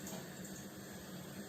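Kangen water poured out of a glass, a steady close splashing stream of liquid that runs without a break for the whole moment.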